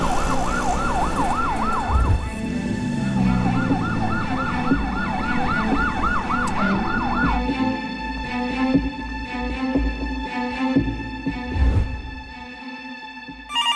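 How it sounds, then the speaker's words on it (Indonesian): An ambulance siren wails loud and close, its rising and falling tone cycling steadily for several seconds before giving way to sustained steady tones over traffic noise. "Pasti ini ambulans."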